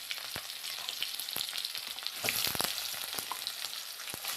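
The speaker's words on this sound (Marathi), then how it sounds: "जिरे घालून झाले लगेच घालून घेऊया कांदा," Onion goes into hot oil already crackling with mustard seeds and cumin, giving a close, hissing sizzle with scattered pops and a louder burst of spitting partway through; no voices.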